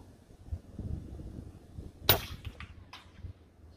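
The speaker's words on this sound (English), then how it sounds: "I'm going to shoot those plums down there at 50 meters with the wind that's blowing" A single sharp crack from an Aselkon MX10S .22 PCP air rifle fired at plums 50 meters away in the wind, loud and sudden against a quiet breezy outdoor background, followed by faint rustles.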